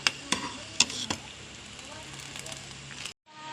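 Ada payasam bubbling and sizzling in a pan, a continuous low simmer broken by a few sharp clinks from a utensil early on, ending in a brief silence.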